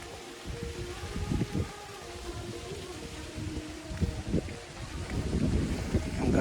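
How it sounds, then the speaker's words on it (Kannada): Gusty wind sweeps across a hilltop temple outdoors, roaring as broadband rumble with low buffeting against the microphone and swelling toward the end; no voices. "ಗಾಳಿ ಮಾತ್ರ ಅದ್ಭುತವಾಗಿದೆ."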